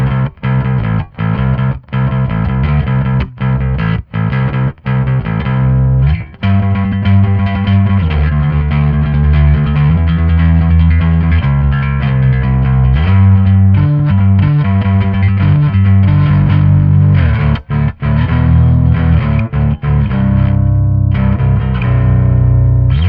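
Electric bass played through a Boss ODB-3 bass overdrive pedal with the blend favouring the overdrive but a mild gain setting, giving a gritty, punky tone; loud, alone, with sustained notes and a few sharp string mutes and rhythmic stops.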